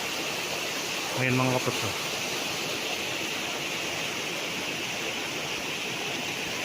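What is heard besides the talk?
natural spring water flowing on farm lot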